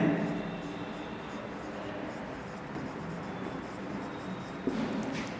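Chalk or marker scratches across a board during a physics class, giving a faint, continuous scraping under a low background hum, with a small knock near the end.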